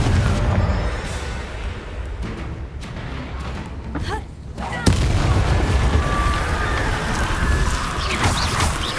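Spell blasts from a Confringo fight in the Hogwarts Legacy video game burst out as booming explosive impacts, one sharp crack standing out midway, amid continuous loud combat noise and some voice.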